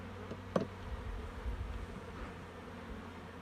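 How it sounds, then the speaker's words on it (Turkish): A soft, steady buzzing of many honey bees at a hive fills the background, fairly faint, with one brief sharper knock near the start. "Arı yavru uçuruyor."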